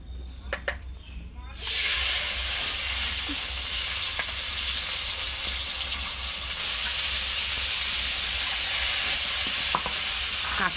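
A ground paste of green chili, poppy seed, melon seed and peanut hits hot oil in a kadai: a brief clatter, then a loud, steady, close sizzle and hiss that continues without a break.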